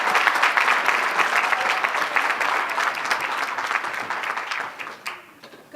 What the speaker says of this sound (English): let's welcome her with a warm applause